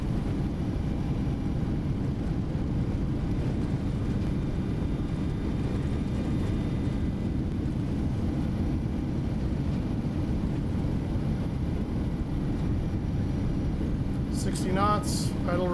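Boeing 727 engines roaring in full reverse thrust during a crosswind landing in a flight simulator, a steady broad dense rumble that holds loud and unbroken throughout, with a few faint high clicks near the end.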